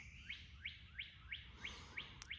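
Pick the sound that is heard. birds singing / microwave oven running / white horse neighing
birds singing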